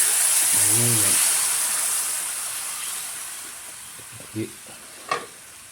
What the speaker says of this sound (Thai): ขั้นตอนแรกครับ ใส่กะทิ